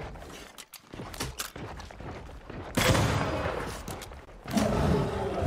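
Gunfire from the game Banishers: Ghosts of New Eden, a few broadband shots and bursts over a continuous ambient game backdrop, with louder blasts in the second half.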